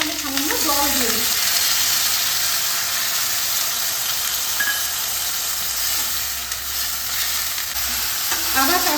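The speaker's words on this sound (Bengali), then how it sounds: "এই আদা বাটাটা এর সঙ্গে অ্যাড করে দেবো। আদাটা যাতে না ছিটকায় সেজন্য আমি সামান্য জল দিয়ে দিচ্ছি।" Ginger paste frying in a pan with a splash of water, a loud continuous hiss and sizzle with stirring, joined briefly at the start and end by a voice.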